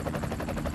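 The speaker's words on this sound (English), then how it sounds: "I know how to drive a helicopter." A video game helicopter in flight gives a brief, steady rotor thrum with a low chopping pulse, loud and close.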